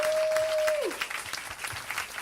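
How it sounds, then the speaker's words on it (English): Applause from an airport audience greeting Spirit Airlines at a San Antonio International Airport announcement, a steady wash of clapping that runs throughout with a brief tone sweeping down near the start. "Big round of applause for Spirit Airlines."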